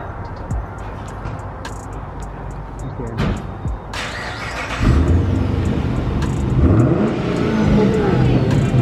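Pontiac G8 with muffler delete and X-pipe revving loudly up close, the engine surging in repeated deep pulls that grow heavier in the second half, with people talking around it.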